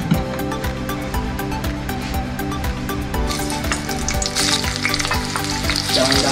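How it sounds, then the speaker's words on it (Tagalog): Onions hit hot oil and fry with a loud, dense crackling sizzle, a rapid ticking of spatters running throughout, and the hiss grows brighter partway through. "mainit na yung mantika. Pwede na natin ilagay yung sibuyas."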